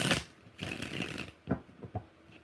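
Tarot cards are shuffled by hand in short, soft riffling bursts with brief pauses between them, close and quiet, with no voices.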